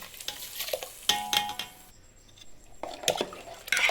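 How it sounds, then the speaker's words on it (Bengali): Bursts of gritty scraping and rattling as rice and lentils are stirred in a pot of hot water for khichuri, with brief quiet gaps between strokes, close and fairly loud. "চাল আর ডালটা হাঁড়ির মধ্যে দিয়ে আমি একটু নেড়ে নিলাম"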